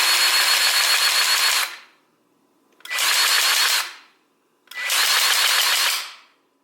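A Milwaukee M18 cordless grease gun pumping grease into a fitting, three loud motor whirs, each lasting about one to two seconds, with short silent gaps between them, close up and with no talking.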